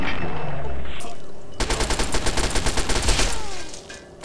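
Gunfire crackles in the video game Fallout 3: a rapid, loud automatic volley of evenly spaced shots runs for about two seconds, then trails off into echoing ambience.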